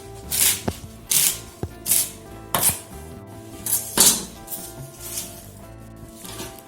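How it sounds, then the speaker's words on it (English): A knife coarsely chops wild garlic (ramps) on a cutting board close by, a loose rhythm of crisp thuds, several strokes in a row with brief pauses. "So we rinse the wild garlic, just chop it coarsely"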